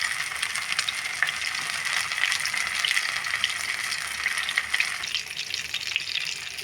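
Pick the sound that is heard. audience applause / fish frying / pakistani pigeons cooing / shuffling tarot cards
fish frying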